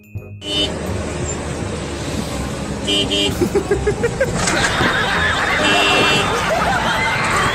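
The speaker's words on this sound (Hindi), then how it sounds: "पीछे कार वाला हॉर्न मारता है" Amid steady road traffic and background voices, a car horn gives several short honks, followed by a busy stretch of street noise.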